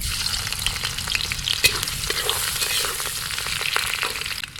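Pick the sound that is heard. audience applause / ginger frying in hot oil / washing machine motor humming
ginger frying in hot oil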